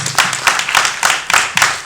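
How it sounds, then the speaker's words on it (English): A film festival Q&A audience gives a round of applause, brisk rhythmic clapping in regular pulses, close and lively, with no voices. "Let's give Minji a round of applause"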